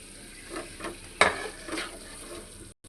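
Star fruit dropped into spice masala frying in a pan, giving soft sizzling and stirring scrapes with one sharper splash-like burst partway through before the sound cuts out.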